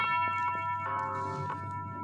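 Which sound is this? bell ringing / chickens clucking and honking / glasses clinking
bell ringing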